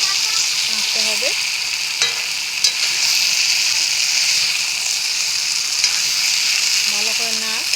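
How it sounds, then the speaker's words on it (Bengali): Chicken frying in a wok (kadai) while stirred, a steady loud sizzle and hiss throughout with occasional scraping and clinks of the spatula against the pan, a few brief voice fragments underneath. "আর এখন কিন্তু নাড়াচাড়া করতে হবে বেশি করে, নাহলে লেগে যাবে।"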